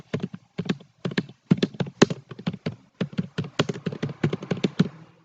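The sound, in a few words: typing on a computer keyboard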